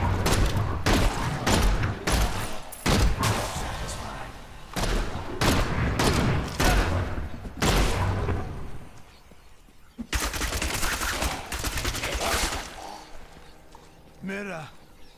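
Demon Hunter in Diablo 3 firing massive, powerful shots, a rapid series of loud, sharp blasts in quick rhythm, pausing briefly and resuming, with someone talking over the game sound.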